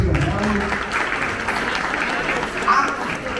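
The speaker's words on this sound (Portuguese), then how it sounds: "Uma salva de palmas para você" Audience at a conference event breaks into steady applause, a continuous wash of clapping across the whole stretch, with some voices mixed in beneath.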